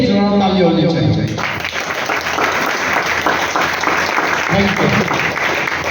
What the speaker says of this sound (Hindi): मैं चाहता हूँ अपने लिए एक जोरदार ताली होनी चाहिए।